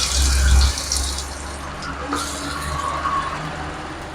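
Chopped onion, green chili, garlic and ginger dropped into hot oil, opening with a loud burst of hiss that settles into a steady, close sizzle.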